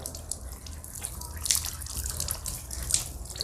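Water poured in a steady splashing stream during wudu ablution, a continuous close wash of liquid with a couple of brighter splashes, no talking.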